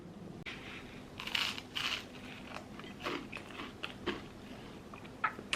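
Crunchy chewing of slightly burnt home-cooked food, close and fairly quiet, with a series of sharp crackly bites and chews spread unevenly across the stretch, no talking.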